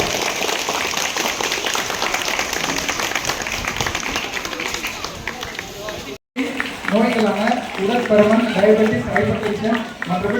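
Students clap at a karate belt-awarding ceremony presented by a minister, a busy patter of hands for about six seconds, then after a brief cut a voice speaks over lighter scattered clapping.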